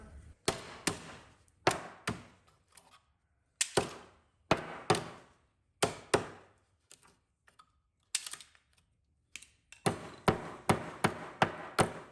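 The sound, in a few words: hammering a piece out with a hammer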